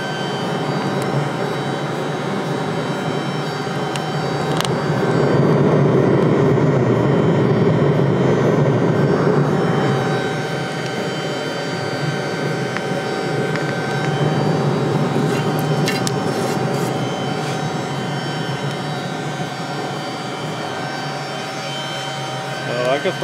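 A wood gasifier running and drawing hard makes a steady, loud whooshing roar with rumbling low hum and a faint whine, continuous throughout, with slight surges in strength.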